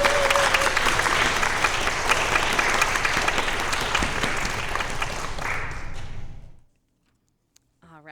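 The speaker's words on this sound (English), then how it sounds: "Please join me in a round of applause" A church congregation breaks into sustained applause during a Sunday worship service, dense clapping filling the room for about six seconds before stopping abruptly into silence.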